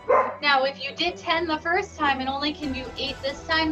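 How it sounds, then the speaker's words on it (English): Pet dogs barking at home while a person talks over them; repeated yaps and barks mixed under and between the steady speech, moderately close. "I don't know if you can hear my dogs barking."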